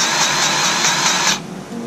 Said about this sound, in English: we stick it on the end of the tractor, and we give it a couple of pumps